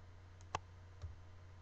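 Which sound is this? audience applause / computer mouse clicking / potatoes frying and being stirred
computer mouse clicking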